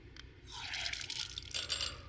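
Water from a desert well with a big orange tank on El Camino del Diablo in southern Arizona gushes and splashes briefly, close by, in two short surges.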